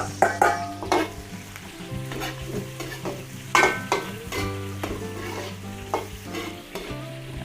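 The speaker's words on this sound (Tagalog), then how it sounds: "Luto-lutuin lang po natin yung ating panggisa." Onion and aromatics sautéing in a pan, a steady sizzle broken by repeated metallic scrapes and knocks of a spatula stirring them, close and clear with no talking.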